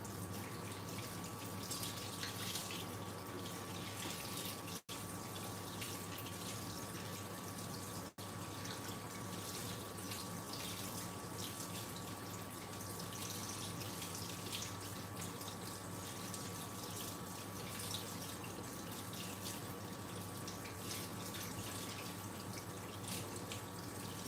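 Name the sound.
washing hands under running tap water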